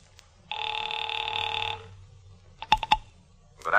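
In a 1949 radio-drama setting, a telephone bell rings in a steady burst, then a rotary dial clicks through a few quick turns before another short sound begins.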